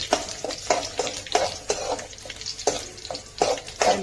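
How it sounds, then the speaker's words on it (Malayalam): Mustard seeds, curry leaves and chopped shallots sizzle in hot oil for tempering a Kollam-style fish curry, with a steady crackle broken by repeated rhythmic scrapes of a spoon stirring the pan. "പച്ചമുളക് ഇല്ലാത്തതുകൊണ്ട് കറിവേപ്പിലയും കൊച്ചുള്ളി അരിഞ്ഞതുമായിട്ടാണ് കടുക് പൊട്ടിച്ചത്"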